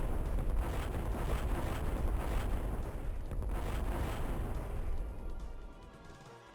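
A mine blows apart in the game Descent with a long roaring explosion, a broad, sustained rumble full of crackling debris that holds for several seconds before slowly fading, with no speech.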